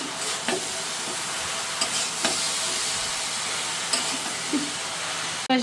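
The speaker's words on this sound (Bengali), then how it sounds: "লাউ সবজি তো এখন নেড়ে মিশিয়ে নিই" A gourd vegetable with salt, turmeric and chili being stirred and mixed in a pan, giving a steady close sizzle with scattered soft scrapes of the utensil and no talk.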